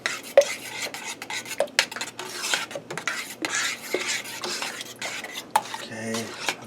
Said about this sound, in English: Get it nice and stirred together here.